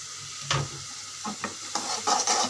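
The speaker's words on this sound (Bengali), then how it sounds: "আর এখানে করতেছি ডাঁটা শাক ভাজি।" Amaranth stem greens fry in a pan under a low sizzle, with several short scraping stirs that come quickly one after another toward the end.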